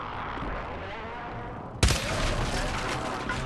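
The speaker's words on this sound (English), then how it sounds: "This is a shotgun" A single sharp shotgun blast in Call of Duty MW3 cuts through a dense, noisy game mix, with loud continuous background clatter before and after.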